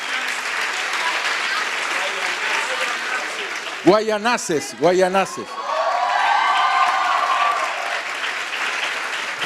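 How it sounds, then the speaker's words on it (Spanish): Applause from a church congregation of about 120 people fills the whole stretch as steady clapping, briefly broken by a voice speaking over it before the clapping swells back. "Un fuerte aplauso al Señor por ese logro fantástico."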